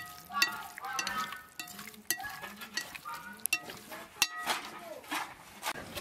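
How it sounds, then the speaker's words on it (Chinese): Chunks of honey-coated pork belly frying in a wok to render out the fat, with crackling sizzle, clinks of a spatula against the pan, and a voice speaking intermittently over the cooking. "的锅里把五花肉上的油往出煸一下"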